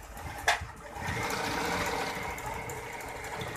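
An Usha Janome Lotus sewing machine runs steadily as it stitches, with a close, continuous mechanical whir after a brief click at the start and no talking.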